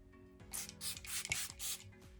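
Several quick bursts of setting spray misted onto the face during a makeup routine, a series of close, airy hisses in a loose rhythm, each puff short and breathy with small clicks of the pump between them.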